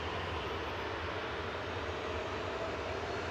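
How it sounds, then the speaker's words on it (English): Ryanair airliner departing Manchester Airport, a steady, broad engine roar held at constant loudness throughout, heard from a distance with no voices. "And departing now is Ryanair to Palma with flight 1103."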